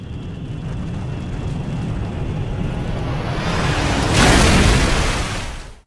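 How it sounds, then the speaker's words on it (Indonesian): A massive, sustained explosive roar from a film, with deep rumbling that swells louder toward the end before cutting off abruptly. "ada sebuah ledakan yang sangat besar"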